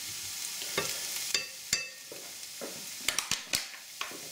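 Lamb mince frying in a pan with onions and garlic, a soft sizzle broken by sharp scrapes and clacks of stirring at an irregular pace, fairly close and quiet overall.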